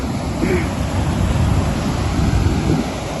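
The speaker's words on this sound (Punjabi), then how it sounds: "ਚੱਲਦਾ ਪਾਣੀ ਪੂਰੀ ਸਪੀਡ" A rain-swollen flooded river rushes past at full speed, producing a loud, continuous low roar of churning water with no breaks.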